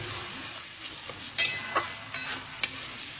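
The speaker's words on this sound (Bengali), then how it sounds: "আমি এর মধ্যে অ্যাড করে দেবো টমেটো 2খানা বড় বড় সাইজের, দিয়ে এবার এটাকে আবার ভালো করে কষাবো।" Two large tomatoes stirred and fried into spice masala for a spicy Punjabi chicken curry, a soft steady sizzle broken by several sharp scraping strokes of the spoon against the pan.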